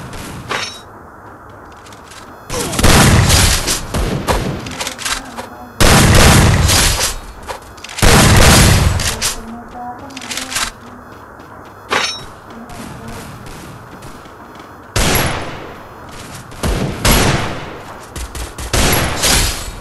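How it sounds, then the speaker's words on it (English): Desert Eagle pistol shots ring out in a shooting game's training mode, loud heavy bursts landing in separate volleys with short gaps between them, with no talking underneath. "today I'm using a new shield gun in training mode"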